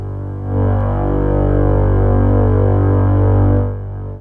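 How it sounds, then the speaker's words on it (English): Continuous synthesizer drone from a Eurorack oscillator module: a loud, steady, harmonically rich tone that swells in after a moment, holds evenly for about three seconds, then stops abruptly. "we are getting sound from the Margaret Laniakia module, which is just generating like a continuous drone like this."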